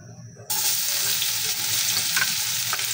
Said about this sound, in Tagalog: Mainit na po yan at uunahin po natin yung ating bawang.